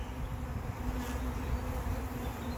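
Honeybees in an open colony hum in a dense, continuous buzz, close and steady with no voices.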